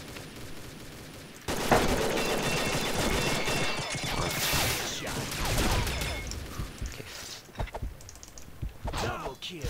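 Gunfire in the Combat Arms online shooter, heard as dense, sustained bursts of rapid shots followed by scattered single cracks, loud and continuous against game background noise.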